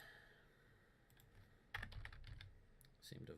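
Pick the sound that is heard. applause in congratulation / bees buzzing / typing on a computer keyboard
typing on a computer keyboard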